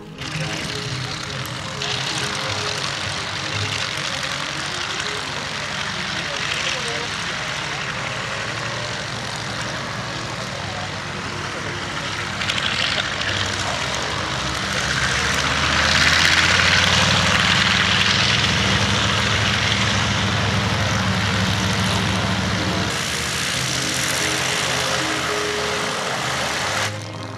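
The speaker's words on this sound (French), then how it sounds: "Avenger est un avion embarqué dont la mission est le torpillage et le bombardement." A Grumman Avenger carrier-borne torpedo bomber with a propeller engine passes at the La Ferté-Alais air show in 2010, a sustained droning roar that swells toward the middle and then eases, with commentary over it.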